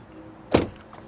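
A single solid thump of a heavy car door shutting nearby, brief and weighty, with quiet background otherwise.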